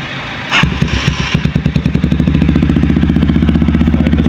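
A motorcycle fitted with an open Akrapovic muffler starts up and settles into a loud, close, rapid idle, its exhaust pulsing in an even, throbbing rhythm.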